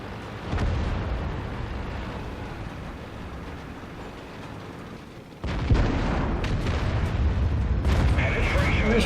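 Tank cannon fire in World of Tanks on a 9.5 test server: a constant heavy engine rumble, then a loud booming shot about halfway through, followed by denser rumbling and crackle.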